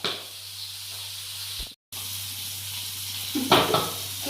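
Boiled pieces of mharay fish frying in oil in a wok make a steady close sizzle that cuts out briefly, then a sharp spitting pop and crackle as the hot oil bursts, with no talk.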